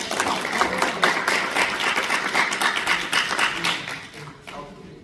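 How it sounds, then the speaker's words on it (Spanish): An audience at a book presentation claps in a warm, sustained round of applause that holds steady for several seconds before thinning out and fading near the end. "les damos un fuerte aplauso"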